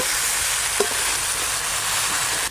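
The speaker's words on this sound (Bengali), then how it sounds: "এবার কেটে ধুয়ে রাখা লাউগুলো দিয়ে দেব, লবণ, মশলার সঙ্গে লাউ খুব ভালো করে মিশিয়ে নেব।" Chopped bottle gourd sizzles steadily in a pan as it is stirred with salt and spices in oil. A constant, loud frying hiss runs throughout with one small scrape, and no one talks.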